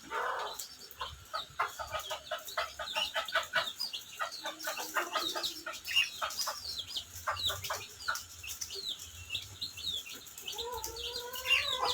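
Baby chicks pecking and scrapping over food beside a pair of budgerigars, rapid bursts of high cheeping and soft clucks scattered throughout at close range, with no talking.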